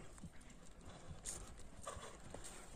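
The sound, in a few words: horse hooves running in a horse race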